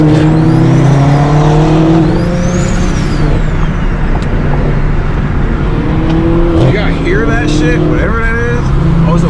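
A BMW 1 Series with a single turbo drives close by, its engine loud and revving in rising and falling sweeps amid the noise of a busy car cruise, with voices mixed in.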